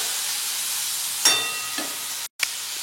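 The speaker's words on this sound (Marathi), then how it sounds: "1 मोठा टोमॅटो बारीक कापून घेतलेला आहे, तो टाकूया." Finely chopped tomato goes into a hot pan with dal and fries, giving a soft, steady sizzle and hiss with a couple of brief louder crackles and a short cut of silence.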